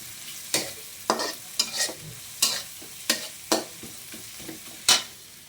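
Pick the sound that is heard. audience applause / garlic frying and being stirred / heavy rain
garlic frying and being stirred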